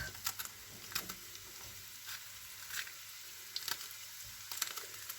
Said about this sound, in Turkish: Tenceremizde bakın kaynamaya başladı